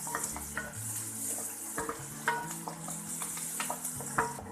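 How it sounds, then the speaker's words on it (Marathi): Onions sautéing in a pan for a dal tempering, with a steady soft sizzle under repeated stirring scrapes and light clinks of a utensil against the pan, close and moderately quiet with no talking. "आधी कांदा चांगला परतून घेऊया"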